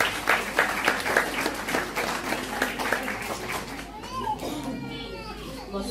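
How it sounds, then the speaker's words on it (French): An indoor audience at a celebration of International Women's Day claps steadily for several seconds, with children's voices mixed in. The applause then fades into a murmur. "Applaudissez s'il vous plaît."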